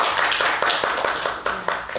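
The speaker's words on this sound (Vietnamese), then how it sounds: "xin đại chúng một tràng pháo tay nữa" Audience at a Vu Lan Dharma talk at a Buddhist temple breaks into sustained applause, dense overlapping clapping throughout with a few sharper claps standing out, no speech.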